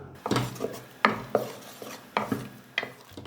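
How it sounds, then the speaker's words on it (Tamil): Ginger, garlic, mint and coriander being sautéed for mutton leg soup, heard as a series of distinct, fairly quiet scrapes and clinks of a spoon against the pan over a faint sizzle. "அது வரைக்கும் கொஞ்சம் டைம் எடுத்து நம்ம நல்லா வதக்கிக்கலாம்"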